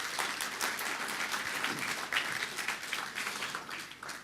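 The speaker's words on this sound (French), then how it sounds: "je vous remercie d'applaudir déjà ces 5 débatteurs" An audience applauds five debaters at an evening debate event on the ALUR housing bill, with dense, steady clapping that fills the room and fades slightly toward the end.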